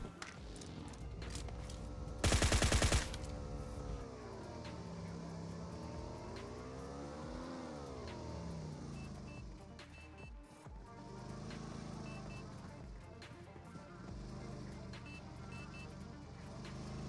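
A motorbike comes over a hill in PUBG, a steady engine drone with rising and falling pitch as it approaches, and a sharp loud burst partway through; faint voice under it.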